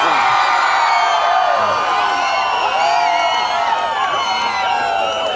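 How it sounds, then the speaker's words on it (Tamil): Stage-show audience cheering and whooping for guest Vishal at a Madurai Muthu comedy event, a dense, loud roar of voices and shrill whoops that holds without a break. "ஒரு பெரிய கரகோஷம் கொடுத்து"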